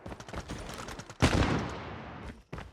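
Rapid gunfire from a sniper rifle and other weapons rings out in a Call of Duty Mobile match. It comes as a quick burst of close, loud shots, then one heavy blast that rings out and fades, followed by more sharp cracks.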